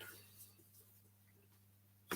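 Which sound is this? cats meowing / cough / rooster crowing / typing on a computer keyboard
cough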